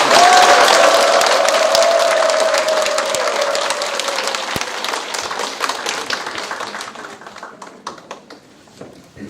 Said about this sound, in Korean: 우리가 배운 6번으로 환영의 박수를 부탁드리겠습니다